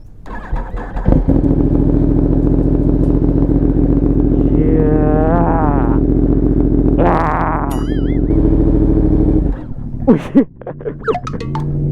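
A Yamaha R1M sport motorcycle engine idles loudly, then revs in sharp bursts with rising and falling pitch, close by, before sputtering down near the end.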